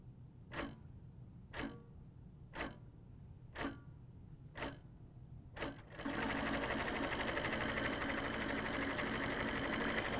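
An HQ Pro-Stitcher computerized quilting machine stitches six tie-offs, each one a short evenly spaced mechanical burst, before settling into a continuous loud whirring of steady stitching.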